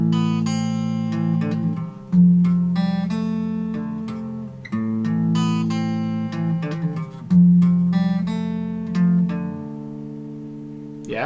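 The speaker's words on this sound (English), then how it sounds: "playing the main riff with the bass notes together on one guitar" A single guitar plays the main riff of a song with bass notes, in steady arpeggiated phrases repeating over about eleven seconds, clear and close with ringing low strings and no speech.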